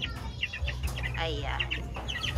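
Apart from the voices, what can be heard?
white kelso chickens clucking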